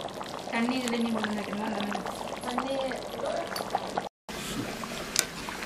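Water poured into a pot of South Indian mutton curry, a continuous gurgling pour with a rising tone, heard close under a woman's speech, then a short break followed by quieter bubbling.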